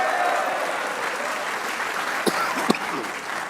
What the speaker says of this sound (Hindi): एक बार इस परफॉर्मेंस पे शाहीन के लिए तालियां होनी चाहिए।